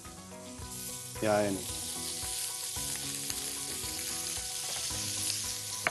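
A beef fillet steak sizzles steadily in a hot frying pan, with a bright continuous crackle and a brief scrape of movement, while someone speaks over it.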